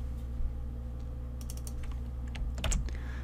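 Keys clatter softly on a computer keyboard while Excel VBA code for a UserForm combobox is being entered, as a short irregular run of clicks over a steady low hum.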